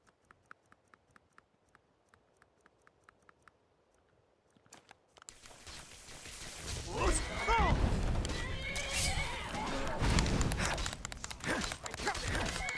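A horse whinnies and neighs loudly and close, preceded by a soft series of quiet ticks, with hoof and chewing-like noises and a busy, noisy background underneath.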